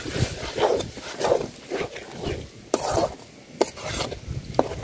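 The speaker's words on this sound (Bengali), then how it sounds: "মশলাটা খুব সুন্দর করে ভাজা নিছি তেলের সাথে। আর বটবটি বাটাটা দিয়ে দিলাম।" Hyacinth bean (bottbotti) paste frying with spices in hot oil, a soft sizzle with rhythmic scraping and stirring strokes from a spatula in the pan, close and moderately loud.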